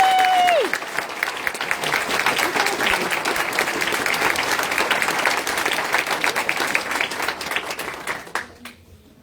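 Applause from the audience at a school board meeting, steady clapping that holds for several seconds before fading out, with a brief voice at the very start.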